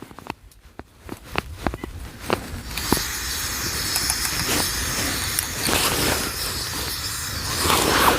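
An MSR camping stove fitted with a fuel converter, used outdoors in snow, gives a few sharp clicks and then settles into a steady, close roaring hiss as it burns.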